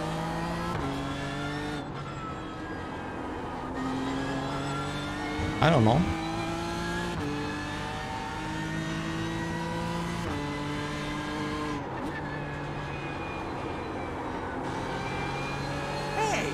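BMW M4 GT3 race car driven in the iRacing sim, its engine droning steadily through repeated upshifts and rising revs, with a brief squeal mid-run; a voice speaks briefly over it.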